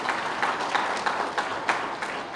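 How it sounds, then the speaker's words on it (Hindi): Crowd applause at a political rally in Jharkhand, a dense wash of many hands clapping with faint rhythmic surges, fairly loud and continuous throughout. "और एक बार ताली बजाओ जिला अध्यक्षों के लिए"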